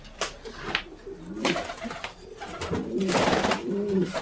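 Pigeons in a fancy-breed loft coo repeatedly in soft, throaty low phrases, with several birds close by and some wing rustle, and no talk.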